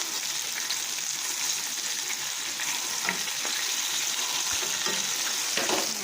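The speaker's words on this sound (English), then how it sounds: "let it fry for the last 2 minutes, and then it should be done" Chicken pieces deep-fry in oil, producing a dense, steady, loud hiss and crackle with a few faint clicks and pops throughout, and no voices.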